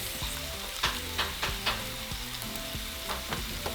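Ground beef frying in a pan with chili seasoning mix, a dense continuous sizzle with a few brief stirring scrapes, close and steady with no talk.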